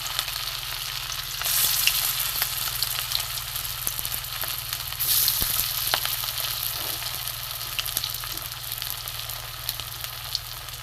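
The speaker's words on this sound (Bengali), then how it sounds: "এবার আমি আবার দিয়ে দেবো হালকা তেলে, ডোবা তেলে আমি ভাজবো না।" Leftover rice tikki patties shallow fry in a little oil in a pan, giving a steady soft sizzle close by. The crackle swells twice, with a few faint clinks, and no one speaks.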